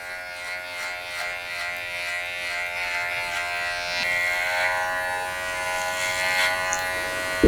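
Electric hair clippers fitted with a number 2 guard cut through long hair from the bottom up, a steady close buzz that carries on without a break and rises slightly in strain now and then.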